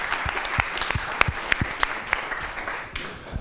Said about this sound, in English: give a random applause, a very hard applause for Gerben, our first speaker.